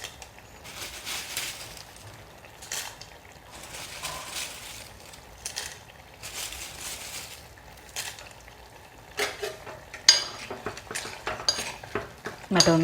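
Fried pappadam stirred into a pappadam curry, intermittent scraping and clinking of a spoon against the pot in short bursts, quiet between strokes and louder toward the end.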